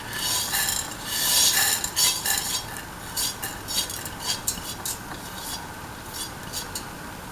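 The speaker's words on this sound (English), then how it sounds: "Salt and mix the vermicelli." A spoon scrapes and stirs vermicelli in a pan for a sweet custard pasta, giving repeated close, raspy metallic strokes in an uneven rhythm.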